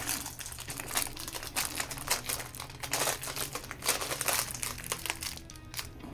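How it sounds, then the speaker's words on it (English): Plastic piping bag filled with paint being squeezed by hand, giving repeated close crinkling and crackling bursts in an irregular rhythm over several seconds, with no talking. "Once I got all the paint in the bag, I'm going to squeeze it."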